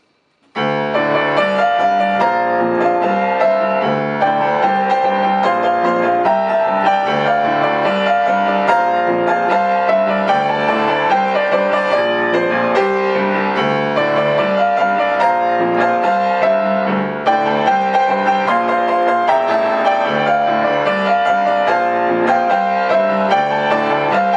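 A piano plays a full, busy chorus passage of a song, an octave up, with chords and a moving bass line, steady and loud throughout with no voices.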